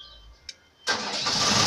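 A car engine cranks with a short starter burst and catches, then settles into a steady, loud idle close by after a brief quiet pause and a small click.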